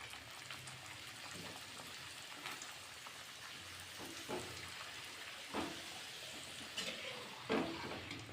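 Puri frying in hot oil gives a steady soft sizzle and crackle, fairly faint, with occasional louder bubbling pops and no talk.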